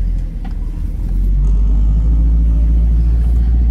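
An old Dodge car engine idles steadily with a deep, loud low rumble throughout, the sound close and continuous with no talk over it.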